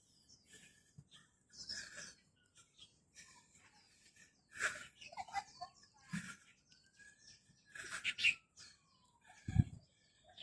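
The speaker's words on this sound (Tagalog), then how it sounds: "Ito po yung Macau." Loud, harsh squawking calls of a macaw come in scattered bursts between quiet gaps, with some softer bird chirps in the background.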